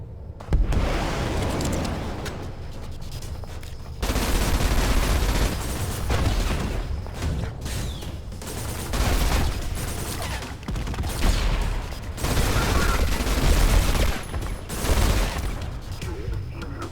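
Rapid weapon fire and blasts in the ADACA video game, dense sustained bursts with heavy booms coming in waves, loud and continuous throughout with brief dips.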